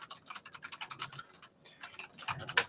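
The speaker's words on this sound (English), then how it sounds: "Let me type it in." Rapid, irregular keystrokes on a computer keyboard while a real-estate web address is entered into a browser, a close, crisp run of clicks with a brief pause midway and no talking.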